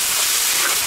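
Ginger pieces, chili and chili bean paste frying in hot oil in a wok, a dense, even hiss and sizzle that is loud and close throughout a brief moment.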